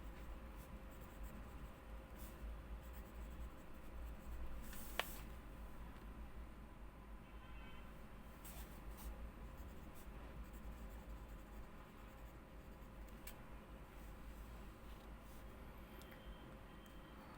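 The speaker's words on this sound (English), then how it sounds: "Writing in this pen is a pleasure." Pilot 78G fountain pen writing on paper, a soft, continuous scratchy nib stroke close up and faint, with one brief sharp tick partway through.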